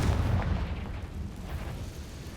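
A Confringo blast spell in Hogwarts Legacy goes off as a dull, heavy boom with a low rumbling tail, loud and close, fading over about two seconds.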